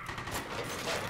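Gunfire in Killzone Shadow Fall online multiplayer, a short burst of rapid shots over busy game noise, fairly loud, with no voice.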